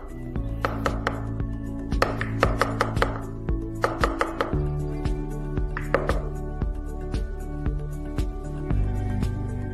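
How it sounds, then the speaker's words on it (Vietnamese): Tapping the bottom of a metal cake pan holding a Vietnamese sponge cake baked in an electric rice cooker: a close, irregular run of sharp metallic knocks that ring briefly over a low steady hum. "các anh chị gõ cái đít khuôn, gõ cái đít chứ đừng cứ gõ cái vành của cái khuôn đó"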